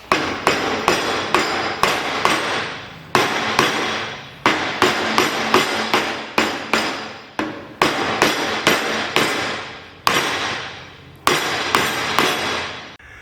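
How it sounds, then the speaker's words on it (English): A hammer repeatedly strikes a 3/16-inch brazed aluminum piece in quick bursts of sharp metallic bangs, each ringing briefly, with short pauses between flurries, loud and close throughout. "Now I'm gonna take a hammer and I'm gonna beat it off of there."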